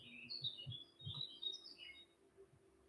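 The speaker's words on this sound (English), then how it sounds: "And you can hear the birds probably." Birds chirping and squawking outdoors, a scatter of faint, distant calls over a low background hum.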